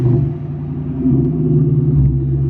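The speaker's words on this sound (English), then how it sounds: "start her up. Get her going again." The engine of a supercharged Ford Mustang GT rumbles loudly and close by as it starts, settling into a deep, steady idle with a slight swell near the end.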